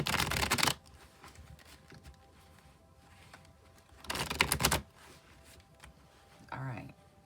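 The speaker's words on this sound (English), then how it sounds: "I'll shuffle the transparent tarot where we'll get the yes or no until it feels done" A transparent tarot card deck shuffled by hand in two crisp riffling bursts, the first at the start and the second a few seconds later, with a short rustle near the end and quiet between.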